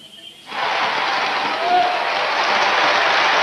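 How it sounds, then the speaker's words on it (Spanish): Sustained applause fills a hall as Chile's president-elect, lawyer Patricio Aylwin Azócar, enters the 1990 presidential handover ceremony, starting abruptly after a brief quiet moment and holding steady and loud. "los aplausos que usted escucha a continuación le muestran el ingreso del presidente electo"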